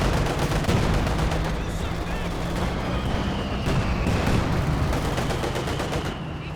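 A ZiS artillery barrage roars in Company of Heroes 2, a dense loud wash of rapid gunfire and shelling that runs without let-up for several seconds, with battle noise layered throughout.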